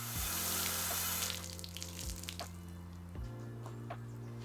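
Water sprayed in varied patterns onto sealant-coated car paint: a loud hissing spray for the first second or so, then softer patters and drips, while a low steady hum with periodic thumps runs underneath.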